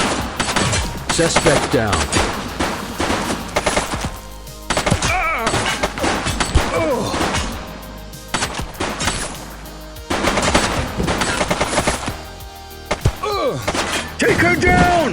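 Gunfire in a police video game, long bursts of rapid automatic shots and heavy impacts that come in waves, loud and close, with a short spoken line heard among the shooting.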